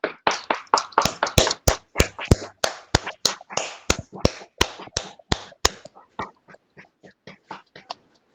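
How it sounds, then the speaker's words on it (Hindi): Claps ring out for a yoga teacher at a yoga session, a sharp, rhythmic run of distinct hand claps, loud and close at first, then thinning into softer, scattered claps toward the end. "जोरदार सदन की तरफ से तालियां हो जाए"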